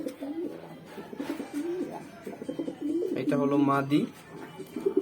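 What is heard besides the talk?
male pigeon cooing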